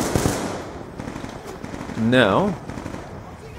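Bursts of gunfire in Call of Duty Black Ops 2, sharp shots crackling through a busy game soundscape, with a voice speaking briefly over them.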